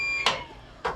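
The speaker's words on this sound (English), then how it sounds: "You can hear the alarm going off in the background," Two short, sharp electronic alarm chirps sound about half a second apart from a bilge pump float switch aboard an aluminum catamaran, set against a quiet background with a faint steady tone.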